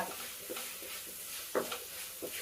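Tomatoes are tipped into a sizzling pan for a fish stew and stirred, giving a few scraping, clattering strokes over a faint, steady sizzle, with no talking.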